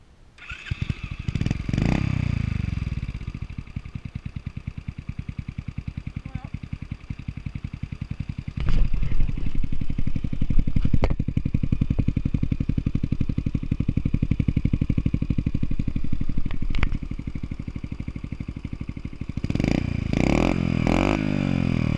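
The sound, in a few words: Dax motorcycle engine running after electric start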